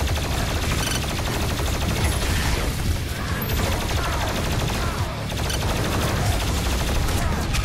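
Enemy gunfire in Doom Eternal rattles in loud, dense, continuous volleys over heavy mechanical game noise, with no pauses across the stretch.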